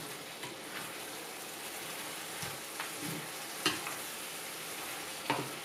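Beef tossed in a sauce mixture in a hot pan gives a steady, moderate sizzle with a few sharp stirring or tossing clatters scattered through it. No one speaks.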